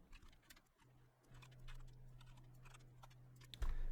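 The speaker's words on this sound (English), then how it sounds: "So let me type that out real quick." Python code is typed on a computer keyboard, heard as a run of soft, irregular keystroke taps close by over a low steady hum, ending with a louder knock.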